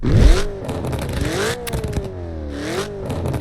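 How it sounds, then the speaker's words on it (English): Car engine in the Roblox game Midnight Chasers revving up and down in rising and falling sweeps, loud and close, with crackling texture between pulls and no talk. "just hear how it revs though."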